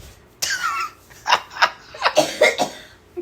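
A burst of short, sharp coughs in quick succession, several separate fits close together, loud and near with no talking.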